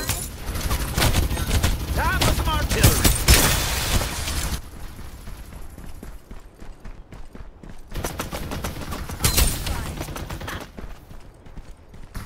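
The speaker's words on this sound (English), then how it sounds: "Exchanging fire." Gunfire trades back and forth in the video game Farlight 84, with dense bursts of shots in two loud clusters separated by quieter sporadic firing.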